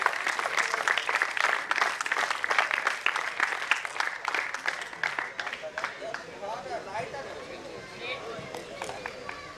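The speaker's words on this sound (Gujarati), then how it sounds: "આ સ્પોન્સર્સ માટે જોરદાર તાળીઓ આપણે વધાવી લઈએ." An audience at a league prize distribution ceremony applauds the sponsors, with dense, lively clapping that thins after about six seconds into scattered claps and crowd chatter.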